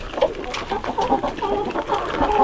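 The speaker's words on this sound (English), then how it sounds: "It's my Big Red rooster" A red rooster clucking near a goat house, making a run of close, choppy clucks and throaty calls that carry on steadily and stay fairly loud.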